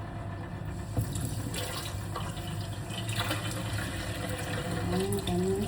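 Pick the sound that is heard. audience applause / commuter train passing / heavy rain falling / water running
water running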